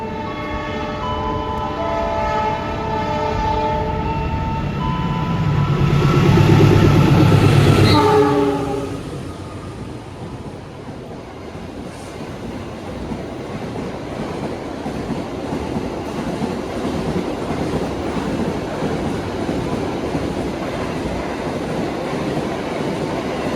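A Dharmawangsa Ekspres passenger train passes a station in Indonesia, opening with a loud sustained horn blast that fades into the steady roar and rattle of carriages rolling by close at hand.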